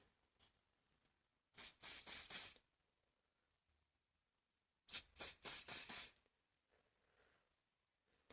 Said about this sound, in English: you can just blow on this hair as you're going along and just spraying it.